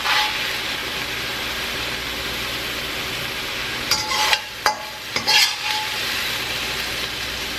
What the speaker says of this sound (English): now that this is browned, I'm just going to transfer it over to another dish